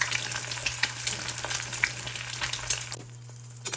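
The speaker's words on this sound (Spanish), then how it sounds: "El sartén lo pongo a calentar primero y después le bajo la flama, le pongo poquita sal y pongo los huevos" Eggs sizzle steadily in a hot, lightly salted frying pan on a stovetop, a dense crackling fry with occasional pops that quiets near the end, with no talk over it.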